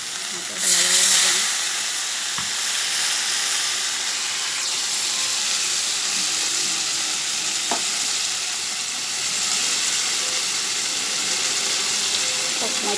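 A splash of water hits hot spice masala in a pan, setting off a loud burst of sizzling and steam that settles into steady frying hiss, with a few clinks of stirring.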